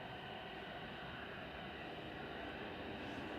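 A large airliner with Rolls-Royce Trent 700 engines taxiing at Manchester Airport, a faint, distant, steady jet roar and rumble that stays even throughout.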